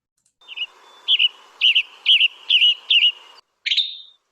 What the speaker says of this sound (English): And that last sound it made, tribidet, it's just a dead giveaway for the tanager.